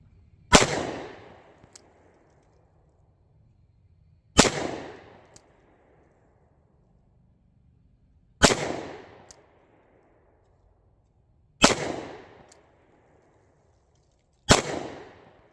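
Five single shots from an S&W 637 Airweight .38 Special snub-nose revolver, each a sharp loud crack with a short echoing tail, spaced several seconds apart outdoors with no talk.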